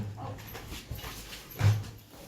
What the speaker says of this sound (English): Lord, this dog eat any and everything.